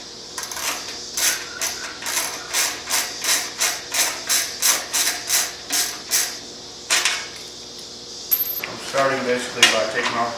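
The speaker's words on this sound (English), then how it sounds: "Starting basically by taking off the nuts to the rear canister." A ratchet wrench removes the 12mm rear exhaust canister nuts on a 2009 Kawasaki Vulcan 900 Custom SE motorcycle, with about fifteen rapid, evenly spaced metallic clicking bursts up close, followed by a few light metal clinks and handling noises.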